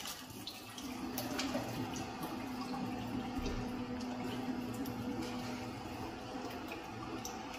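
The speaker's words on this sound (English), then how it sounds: "we go ahead and strain all the water out of it." Water from a pot of boiled, softened potatoes pours steadily out through a strainer, a continuous close splashing rush lasting several seconds with no talk.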